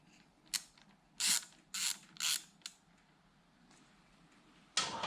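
A small 7mm nut is worked loose on the contact breaker of a Matchless G3L WD motorcycle, giving a handful of short metallic ratcheting clicks and creaks in quick bursts, close and fairly quiet, with no talking.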